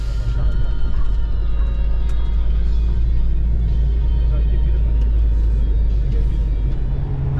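Free hotel shuttle bus on Kos, Greece, heard from inside as it drives into town: a steady, loud, low engine rumble and road noise that runs throughout, with faint murmurs of passengers.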